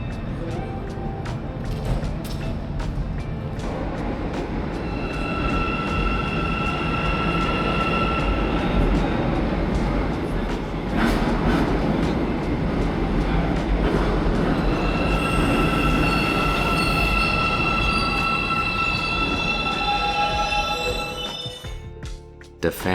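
An Almaty metro train built by Hyundai Rotem rumbles through a deep underground station, with sustained rolling roar, squealing wheels and rising tonal whines, while a voice talks over it before the noise drops away.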